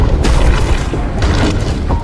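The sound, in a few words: explosion in The Dark Knight film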